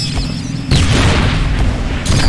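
A rocket explodes in the Deadpool video game, a loud, close booming blast with a sustained low rumble that swells again toward the end.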